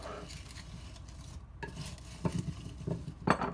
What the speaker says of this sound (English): You give it a good stir.